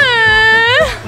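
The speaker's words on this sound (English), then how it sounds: "That's a moan." A woman lets out a single drawn-out, high-pitched moan that wavers steadily and then rises and trails off at the end, voiced close and loud with no other talk over it.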